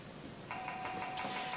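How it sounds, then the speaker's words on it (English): A RuBee Ranger antenna reading a tag in an underwater I-beam demonstration gives faint, repeated electronic dings, a soft tone starting partway in with a brighter ping near the end over low background hiss. "That's the sound of successful reads from the antenna to the tag."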